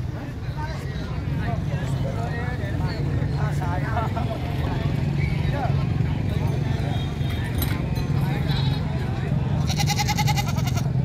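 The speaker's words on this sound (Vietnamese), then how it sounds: "Đây, diễn biến chợ dê" Goats bleat amid a busy traditional goat market at Cốc Ly, with hoof clatter and steady crowd chatter throughout; people talk over the animal calls.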